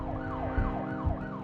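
A police car siren wails in a steady rising-and-falling sweep, loud and close, cycling about three times over a low engine rumble, with no talking.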